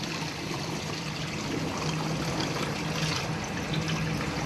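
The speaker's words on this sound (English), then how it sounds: "The water's coming in the room through the air conditioned vent." Steady trickling and streaming floodwater pours into a room through an air-conditioning vent during Hurricane Katrina, a continuous, close, even wash of liquid with no voices over it.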